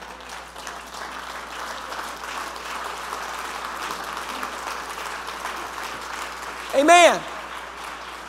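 A church congregation applauds after a sermon, a steady dense wash of clapping hands lasting throughout, with a single voice briefly speaking near the end.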